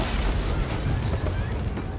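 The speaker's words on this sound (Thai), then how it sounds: "ฝ่าดงระเบิดเข้าไปแบบมาดพระเอก" Dense, continuous booming blasts and crackling detonations from a battle in the video game The Order: 1886, loud and layered with a steady rumble under them.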